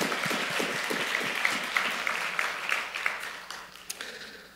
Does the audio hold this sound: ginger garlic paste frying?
no